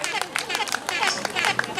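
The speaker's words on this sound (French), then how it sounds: "Je vous demande d'applaudir pour Madame." An audience at a school excellence-day ceremony in Montreal applauds a teacher, with dense, fast clapping and crowd murmur and voices mixed in.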